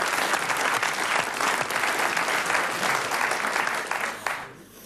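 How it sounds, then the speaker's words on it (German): Studio audience applause on a 1982 German television talk show, a loud, dense burst of clapping that holds steady for several seconds and then fades quickly at the end. "Jetzt muss ich immer klatschen"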